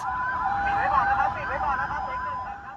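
An ambulance siren wails at a Bangkok airport, a warbling electronic tone at moderate distance over a low background rumble.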